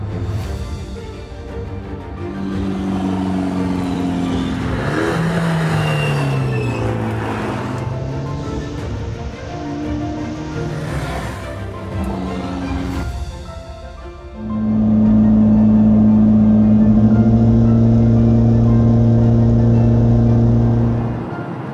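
Loud race car engine revving near a campsite on a road trip, a deep rumbling drone that swells and falls in several rising and dropping revs, then settles into a louder steady roar toward the end, with no voices.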